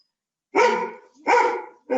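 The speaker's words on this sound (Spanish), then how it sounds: "voy a sacar al perro porque está ladrando muy fuerte" A dog barks loudly and close by, three sharp barks spaced under a second apart with quiet gaps between, and no voices over them.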